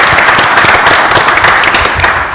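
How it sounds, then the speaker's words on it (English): Council meeting audience applauding in a hall, dense steady clapping filling the whole short stretch at fairly loud level, tapering slightly at the end. "I'd like to applaud"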